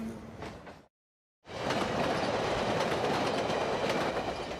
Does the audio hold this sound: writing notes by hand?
no